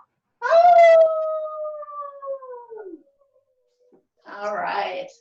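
A voice imitates a big wolf howl during a zoo-themed kids' yoga session, one loud, long howl that slides downward and fades, then talk resumes after a short silence.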